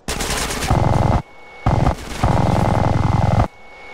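Sustained minigun fire in GTA San Andreas: two long, loud bursts of rapid, continuous gunfire separated by a short pause, with no talking.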